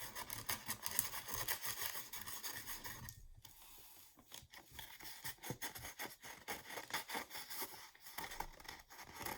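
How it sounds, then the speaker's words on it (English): Dry salt being gently rubbed off a Monet-inspired pond painting: a continuous soft, gritty scraping and rasping close up, with small irregular clicks and one brief lull partway through, and no voices. "I'm going to just gently rub the salt off."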